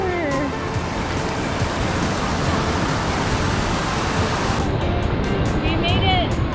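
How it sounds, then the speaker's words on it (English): Ocean surf at Copacabana Beach rolls in as a broad, constant wash of noise from fairly close, with faint voices mixed in underneath. "We made it to the ocean."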